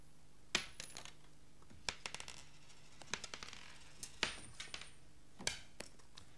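Several coins clink and drop one after another in a sparse, irregular sequence of sharp metallic hits, fairly quiet and with no talking over them.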